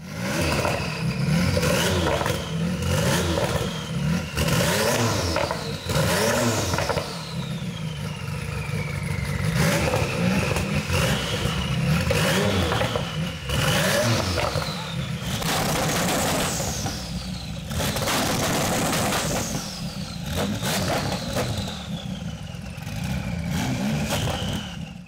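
A boosted 9.7-litre (592 cubic inch) LS-based V8 running 7 psi on a Haltech NEXUS R5 ECU revs hard again and again, each sharp climb dropping back to a loud, steady idle rumble over about twenty-five seconds.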